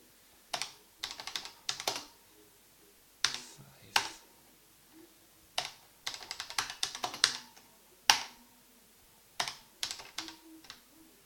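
Bursts of typing on a BBC Microcomputer keyboard give quick clusters of crisp clacks separated by short pauses, close and clear against a quiet background.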